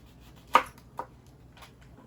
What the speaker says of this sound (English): you want to cut the end off your Brussels